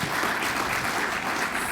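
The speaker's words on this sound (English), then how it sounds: "Round of applause if it's your first year being here with us." An audience applauds at an awards evening, a dense, steady wash of clapping from a crowd that stays loud throughout the short stretch.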